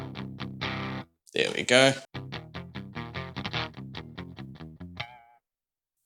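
Electric guitar through an Earth Quaker Devices Palisades boost pedal, tuned to C: rhythmic strummed chords in steady bursts, a short pause and louder flurry, then more chugging strums ending in a ringing chord, with a brief spoken remark.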